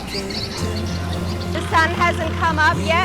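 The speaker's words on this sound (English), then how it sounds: "Can you hear the birds singing?" Birds chirping and singing around a Thai morning market before sunrise, a run of bright repeated calls rising in the latter half under a man's ongoing speech and low background hum.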